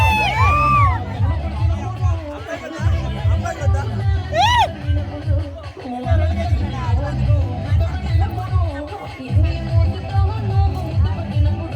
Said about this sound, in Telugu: అబ్బాయికి ఒకసారి ఓ వేసుకోండి